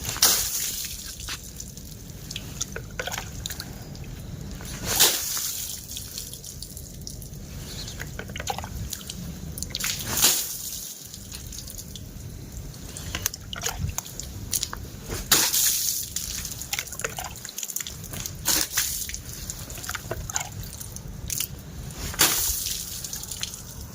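Water splashed into a scooter seat compartment to flush out a hiding snake: dripping, sloshing and trickling, with sharp splashes recurring every few seconds over a long stretch.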